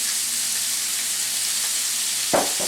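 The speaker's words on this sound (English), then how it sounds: "I browned off my sirloin" Sirloin beef sears in a hot pan with salt and cracked pepper, giving a steady, even sizzle throughout, with a brief louder clatter near the end.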